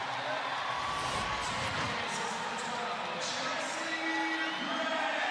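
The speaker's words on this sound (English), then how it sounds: "But the crowd liking the effort." Crowd noise in a basketball arena during a WNBA game between the Atlanta Dream and Las Vegas Aces, a steady roar of cheering that swells slightly midway, with a commentator talking over it throughout.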